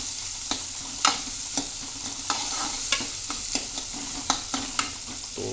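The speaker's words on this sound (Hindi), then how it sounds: "तो गोल्डन ब्राउन होने तक हम इस प्याज को अच्छे से भूनेंगे" Onions fry and sizzle steadily in a pan, close up, with a utensil stirring and tapping against the pan in repeated sharp knocks.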